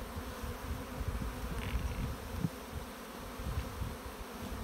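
Honey bees buzz steadily around their hives, a dense, faint insect drone that holds for the whole few seconds with no voices.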